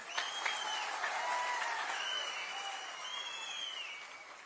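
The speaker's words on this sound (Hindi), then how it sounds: "ये तालियां सड़क पर भी लोग बैठे, जो खड़े हैं, बैठे हैं, वो भी बजा रहे हैं।" Outdoor crowd at a political public rally in Kathua applauding, a soft, distant wash of clapping with faint whistling or cheering tones drifting over it.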